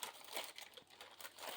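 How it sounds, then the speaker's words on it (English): Crinkling of a plastic bag while parts of a Walthers Northern Light & Power model railroad kit are unpacked, producing a run of soft, close crackles and rustles in irregular bursts. "Next out of the plastic bag is half of the roof"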